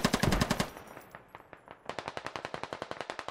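A PKP-Pecheneg machine gun fires in the video game Squad, loud close bursts of rapid rhythmic shots, a dense volley first, a brief lull of scattered rounds, then a steady string of evenly spaced shots.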